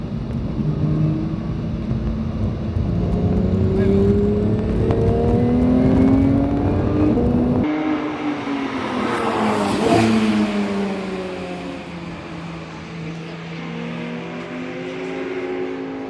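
Porsche 911 (992) GT3 flat-six engine revving hard through the gears on a race circuit, loud and close, rising and falling in pitch with shifts and throttle lifts between corners.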